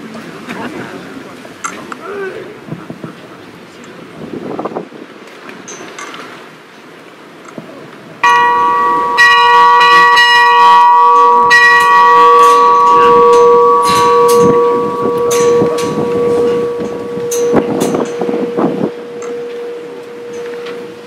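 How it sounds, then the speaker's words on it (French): A newly blessed church bell is struck during a French bell blessing ceremony, ringing loud and close with a long, humming sustain after soft talk and room sounds. A second strike rings near the end. "J'invite la marraine à sonner la cloche."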